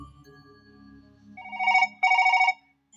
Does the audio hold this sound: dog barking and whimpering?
no